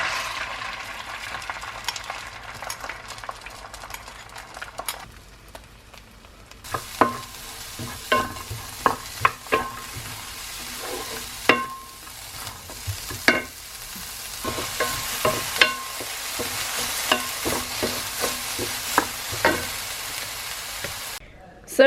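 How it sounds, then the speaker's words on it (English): Egg frying in oil in a pan, with a steady sizzle throughout and a run of sharp pops and crackles in the second half, close and fairly loud, with no talking. "I'm gonna put in some oil, cook the egg"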